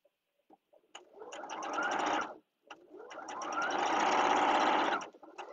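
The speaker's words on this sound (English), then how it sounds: "Then I'm going to sew one corner of my square in a square." A sewing machine stitches one corner of a square-in-a-square quilt block in two close bursts, the first about a second and a half long and the second longer, with a short pause and faint handling clicks between them.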